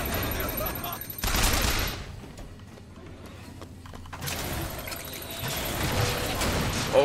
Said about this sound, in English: Wait, someone's shooting at me.